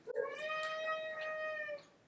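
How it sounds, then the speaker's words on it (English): A house cat gives a single drawn-out meow in a quiet room, clear and close, rising and holding for over a second before trailing off, preceded by a faint click. "Do you hear my cat?"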